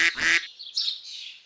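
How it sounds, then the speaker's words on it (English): A cartoon-style duck for a children's animal game gives two quick, bright quacks close up, followed by a fainter, wavering trailing call. "Duck."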